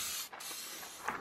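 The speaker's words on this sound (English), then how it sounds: "spray varnishes should be used at a distance from about 30 centimeters, longer than when you sprayed with your color primer" Aerosol spray varnish can hissing in a steady continuous spray over painted tabletop miniatures, close and fairly quiet, with a brief dip and a slight swell near the end.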